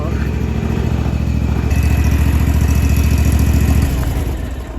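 A large farm tractor's engine runs close by with a steady throbbing idle rhythm. It stays loud and constant for several seconds, then eases slightly at the end.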